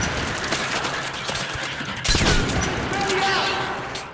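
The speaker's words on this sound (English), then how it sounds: "The Ash Shot gives you 1 shell each time." The Ash Shot shotgun fires in the shooter game Metro Last Light, a single loud, close blast with a sharp attack and a lingering rumbling tail, set against ongoing background din.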